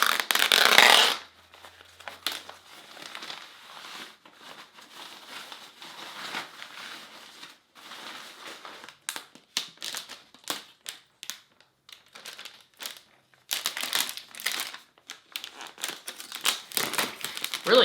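Tight plastic wrap being pulled and peeled off a new 2020 27-inch iMac with 5K Retina display, giving close crinkling and tearing rustles in irregular bursts, loudest at the start and again near the end, with no talk.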